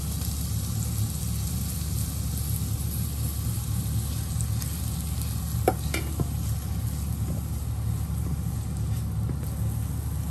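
Green onions sizzling in a hot pan for mapo tofu, a steady close hiss of frying with a couple of brief scraping clicks midway, no talk.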